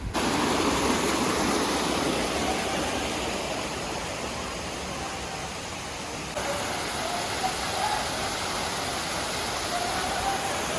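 Courtallam Sitraruvi waterfall roars with a steady, dense rush of falling water, loud and continuous throughout, with a slight drop in level midway before the roar swells back.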